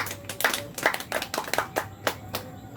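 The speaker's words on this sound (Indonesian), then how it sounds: "Tepuk tangan untuk Widi" Students in a biology classroom clap for a classmate, with a dozen or so sharp, fairly close hand claps in a loose, uneven rhythm. No one speaks over them.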